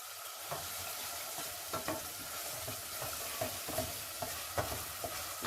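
Tomato sauce for spaghetti bubbles and sizzles in a pan, with a steady soft hiss and intermittent spoon stirring clicks, close and alone without speech.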